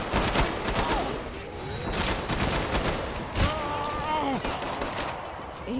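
Rapid gunfire from the video game Killing Floor 2 crackles in dense bursts with a few heavier thumps, loud and close, while game voices speak over the shooting.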